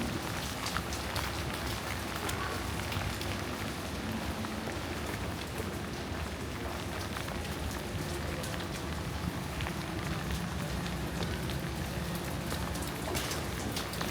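Steady rain falls throughout at Ba Na Hills in Vietnam, a continuous, fairly faint hiss of drops on surfaces with no pauses.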